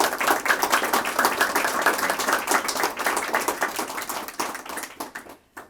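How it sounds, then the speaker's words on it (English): A small library audience applauds after a story reading: close, distinct individual claps in a brisk uneven patter that carries on for several seconds before quickly dying away. "A round of applause."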